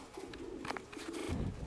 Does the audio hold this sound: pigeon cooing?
yes